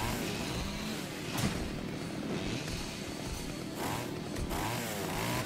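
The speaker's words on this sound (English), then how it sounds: "Chainsaw fight!" Roaring chainsaws clash during a fight in the video game Splatterhouse, a dense, continuous buzzing rasp at steady high volume with a few harsher surges, and no clear talk over it.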